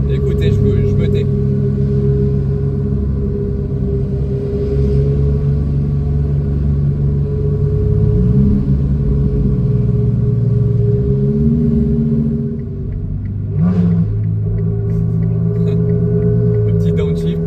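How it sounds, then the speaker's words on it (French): A loud Ferrari 360 Challenge Stradale engine rumbles steadily nearby in Monaco traffic, shifting pitch as it revs and downshifts, with a short drop in volume before the roar returns. "On se retrouve derrière une Ferrari très bruyante, une 360 Challenge Stradale."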